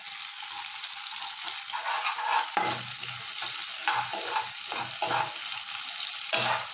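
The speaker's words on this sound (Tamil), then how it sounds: "வெங்காயம் வதங்கினதுக்கப்புறம் தக்காளியை போட்டு வதக்கிடலாம்" Onion and tomato sauté in a pan with a steady sizzle, while a spoon scrapes and stirs in several distinct strokes toward the end.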